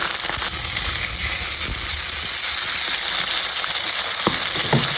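Pieces of tilapia fish frying in hot oil, a continuous close, bright sizzle with scattered pops and spatters.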